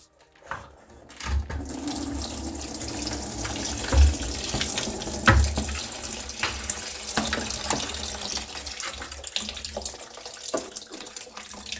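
Water drains and splashes out of an electric water heater boiler with its lower fitting removed for cleaning, a continuous rushing trickle with occasional metallic knocks and clunks, close by and with no talking.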